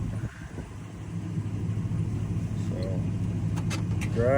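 A truck engine idles steadily with a low rumble while it is shifted into reverse, the hum continuing throughout and a voice briefly heard near the end.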